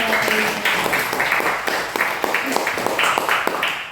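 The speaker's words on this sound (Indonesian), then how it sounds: "Tepuk tangan aplaus buat Anda dulu semua." A seated audience at a business opportunity presentation claps together, brisk uneven applause with distinct individual claps standing out, holding steady throughout without voices over it.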